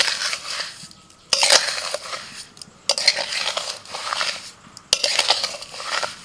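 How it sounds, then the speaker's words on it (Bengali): Sugar being stirred into hot grated green papaya for murabba, a scraping, gritty mixing in a pan with metal clinks, in several bursts separated by short pauses, close and fairly loud. "চিনিটা দেওয়ার পর এরকম গরম অবস্থাতে একটু ভালো করে মিশিয়ে নেব"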